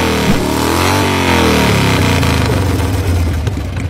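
Motorcycle engine revving loudly up close, with steady rising and falling pitch sweeps as the throttle is worked, running continuously with no other sounds.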